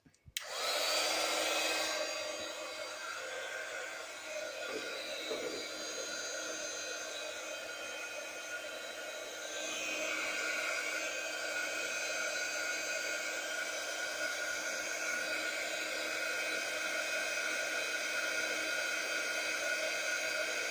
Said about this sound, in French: Donc toujours besoin du hot gun. Vitesse 2.